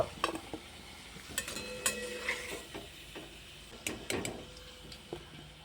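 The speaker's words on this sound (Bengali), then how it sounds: "আলুগুলোকে আমি এখানে সুন্দর করে ভেজে নিয়েছি এবার আমি তুলে নেব" Potatoes fried in oil are stirred and lifted out, producing a soft background sizzle broken by scattered clicks and scrapes of a utensil against the pan.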